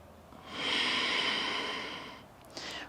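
A single long, airy breath during yoga practice, swelling then fading over about two seconds, followed by a short soft sniff; close and alone.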